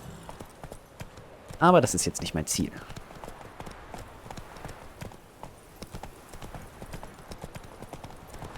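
Roach the horse's hooves clip-clopping in the video game The Witcher 3, a brief burst of steady hoof beats that rises and fades while a person talks over the game sounds.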